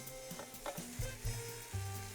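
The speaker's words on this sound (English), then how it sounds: "Get that right in, you'll start to hear some sizzle." Steady sizzling of one-inch chicken cubes frying in a hot pan, with scraping and stirring knocks from a utensil throughout.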